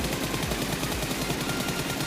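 Rapid automatic gunfire from a mobile shooter video game, played with no-scope gyro aiming, sounds as a loud continuous burst of shots that runs through the whole stretch with no talking.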